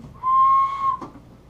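A single toy whistle blown once, a steady shrill tone of about three quarters of a second, close and fairly loud, followed by a brief click and quiet room noise.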